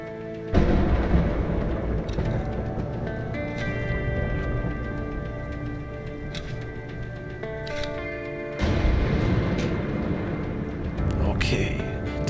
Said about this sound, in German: Der Sturm zieht auf